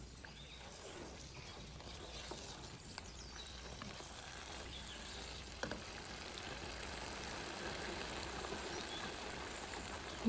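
Achari mutton curry sizzles softly in the pot after yogurt is stirred in, a faint, steady bubbling hiss with occasional scrapes and small clicks, no talking.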